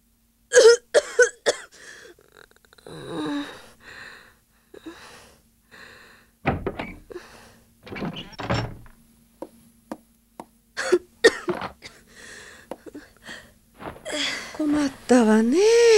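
A cartoon character with a bad cold coughs several times in short bursts between bits of Japanese conversation, with a couple of thuds and quiet pauses in between.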